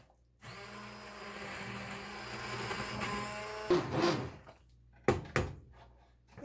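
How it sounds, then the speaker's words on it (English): An immersion blender whirs steadily through a pot of simmered tomato soup, a close, loud motor drone that cuts off, then returns in a few short bursts and clunks against the pot. "Now I'm going to take my immersion blender after it,"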